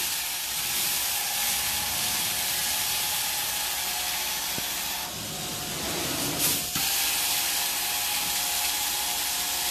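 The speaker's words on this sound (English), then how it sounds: "Just steaming the carpet right on up." A carpet-cleaning wand on a DangPro 3 extractor steams carpet in a daycare center, making a loud, continuous broadband hiss and rush of spray and suction that barely changes over nearly ten seconds, with a brief dip and clunk midway.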